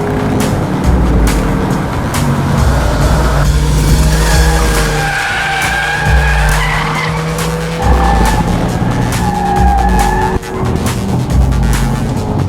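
An Audi TT corners hard on a race track, its engine droning loudly as tyres squeal and skid through the bends in long wavering whines, with no talking.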